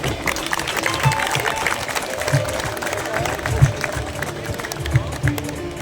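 An audience at a music gathering at Pir Baba Hakam Shah's Naushahi darbar claps steadily, a dense crackle of hands with crowd murmur and occasional low thumps underneath.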